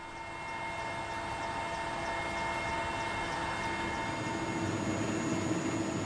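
Warlord's helicopter flying over Balkh in northern Afghanistan, heard as a steady loud cabin drone with a constant engine whine and rotor rumble, continuous throughout without pause.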